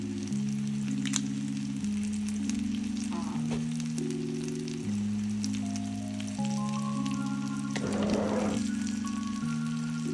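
Pork chops crisping in a hot pan give a steady, moderate sizzle and spatter throughout, partly blended with a continuous musical backing, and no voices are present.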